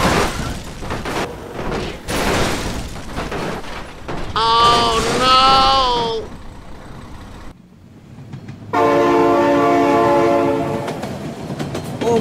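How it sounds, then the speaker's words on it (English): A train in BeamNG.drive passes with loud blasts of its horn, first a short tonal burst, then a long sustained blare over rumbling wheels and engine noise, close and dominant, with shouting voices around it. "Oh my god, train!"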